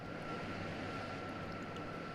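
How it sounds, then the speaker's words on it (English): Fighter jet engine roaring with afterburner in a video game, a steady droning rumble with a sustained tonal whine, moderately distant and unbroken. "And he just put on an afterburner"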